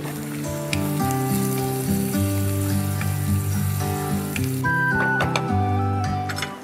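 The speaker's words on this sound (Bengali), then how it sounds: "জিরা গুঁড়া আছে 1 চা চামচ। একটু নেড়ে দিই।" Cumin powder, coriander powder and other spices sizzling in a pan and stirred a little, a steady frying hiss with occasional clinks under a sustained tonal background, close and fairly loud, without speech.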